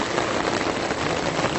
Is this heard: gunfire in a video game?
no